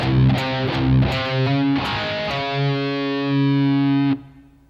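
Heavily distorted electric guitar runs through the third measure of a riff: several chugging open low E hits and short slides, then a held, ringing note that cuts off cleanly.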